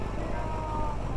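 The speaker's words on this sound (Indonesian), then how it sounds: "Ini kucingnya siapa sih ada di sini?" A cat meows in the Indonesian horror driving game Night Bus Indonesia, a short steady call sounding close over a low rumbling background of game noise.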